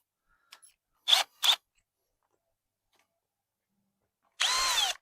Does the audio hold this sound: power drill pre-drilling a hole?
yes